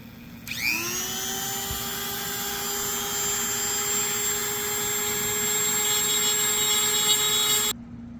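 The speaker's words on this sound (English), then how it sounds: "Now I'm just going to use the Dremel to etch them into the wood." A Dremel rotary tool spins up and whines at a steady high pitch while etching symbols into a wooden handle made from scrap materials, close and loud for several seconds before cutting off abruptly.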